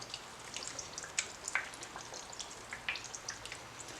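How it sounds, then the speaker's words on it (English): Liquid smoke sprinkled onto aluminum foil around a flat-cut corned beef: a quiet, close patter of scattered droplet ticks, irregular and light like fine rain on a surface, with no one speaking. "Can't get on the back side, so I'm just going to sprinkle it on the foil."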